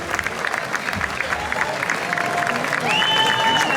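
Audience applause at a Dorgali folk group event with international delegations, steady clapping throughout with a brief whistle-like tone near the end.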